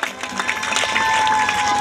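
An audience at a village panchayat ceremony honouring class 10th toppers claps, a dense patter of many hands rising and holding steady over about two seconds, with a voice speaking over it.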